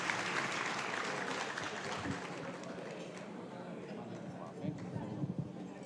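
Applause from a gala audience at an Italian association event in New York, a thick, fairly distant wash of clapping that runs steadily, with faint room murmur beneath.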